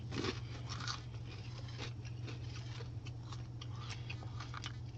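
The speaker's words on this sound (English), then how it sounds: "eating pizza" Close, wet chewing and biting of hot pizza with melty cheese and oregano, soft crunchy bites repeating over a steady low hum, with no talk.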